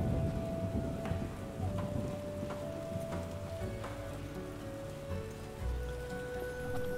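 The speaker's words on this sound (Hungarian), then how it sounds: "Bezzeg most tud vihar lenni" Steady rain falls during a storm in the PC game The Witcher Enhanced Edition, with low rumbles of thunder rolling underneath. The sound stays fairly quiet and even throughout, with no talking.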